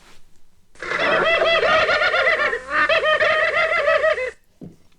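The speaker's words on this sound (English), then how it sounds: "they both utter this vocalization, which is known as the ka, K-A-H, ka of excitement" Rapid, repeated cooing calls from ring doves, the ka excitement call, a bubbling stuttered series that sounds almost like laughter, loud and close, with a short pause midway.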